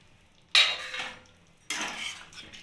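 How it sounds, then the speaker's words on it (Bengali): A spoon scrapes and stirs paneer and cauliflower curry in a pan, with two distinct bursts of metallic scraping separated by a quiet pause. "এবার আমি ভালোভাবে নাড়িয়ে নেব"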